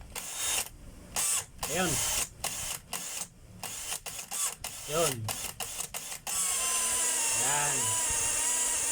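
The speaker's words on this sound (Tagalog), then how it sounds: "Yun yung ingay niya mga kabay na hindi siya normal. So kailangan pa rin nating magpalit ng motor." A Stanley cordless power tool runs continuously with an uneven, abnormal motor whine through the second half, after stretches of speech and short bursts of operation.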